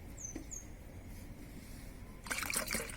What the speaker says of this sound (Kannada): ಈಗ ನಾವು ಬೇಕಾಗುವಷ್ಟು ನೀರು ಹಾಕುವ